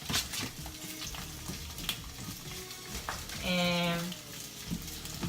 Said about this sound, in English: I like to let this saute for about 15, depending how long it takes for my onions to get how I want them.